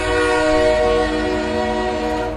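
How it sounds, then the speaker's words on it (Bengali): A train horn blares loud and close in a long, steady, sustained blast, with the rumble of a rushing train beneath it and no voices. "ট্রেনটা জোরে জোরে হর্ন মারছে।"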